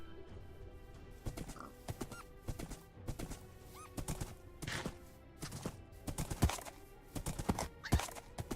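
A horse walking in Minecraft clip-clops in an irregular series of hoof thuds, moderately close, with a faint whinny in the background.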